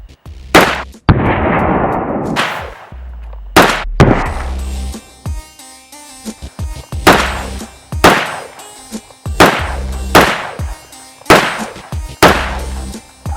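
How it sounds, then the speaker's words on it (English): Rifle fitted with a Vortex Spitfire 3x scope fires a series of about ten loud, sharp gunshots outdoors at soda cans, spaced roughly a second apart, each followed by a short decaying echo. "we're going to do a little bit of shooting"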